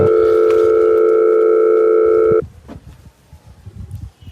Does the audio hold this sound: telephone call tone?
yes